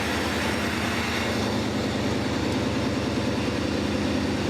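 A 1981 Mercedes 380SL engine runs with its throttle held open by a screwdriver jammed in the throttle blade, a loud continuous rhythmic low chugging heard up close with no one talking.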